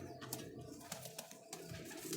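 A high-flying pigeon coos softly while being held and handled, with short faint calls and a few sharp clicks and rustles close by.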